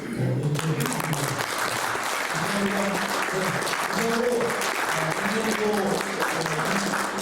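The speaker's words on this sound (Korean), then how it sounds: "함께 큰 박수로" Forum audience applauding at the close of a security lecture, a continuous wash of clapping that runs throughout while a voice talks over it.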